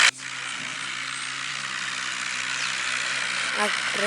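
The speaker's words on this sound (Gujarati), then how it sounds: "આ ટ્રેક્ટર જશે" Tractor engine in the Indian Vehicles Simulator 3D video game idles with a steady, continuous low hum that holds even and fairly loud throughout, with a faint bump near the end.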